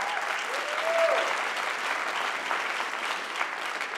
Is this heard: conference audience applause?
yes